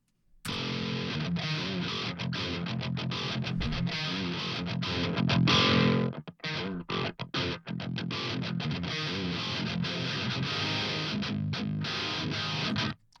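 Low-tuned electric guitar driven through an overdrive pedal for a bright, high-treble djent tone, playing tight palm-muted chugs and choppy stops, loud and close, with no talk.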